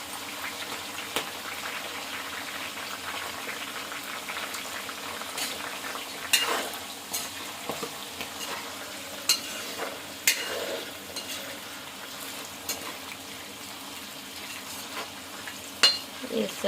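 Tomatoes and green chillies fry in a pan for crab curry, a steady close sizzle with occasional stirring clicks and scrapes.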